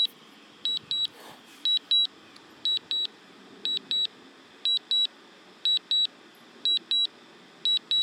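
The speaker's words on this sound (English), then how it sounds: "That's why I'm getting all the beeps." Pairs of high electronic beeps from a DJI Mavic Pro drone controller in automatic return-home mode repeat steadily about once a second, sharp and close, over a faint background hum.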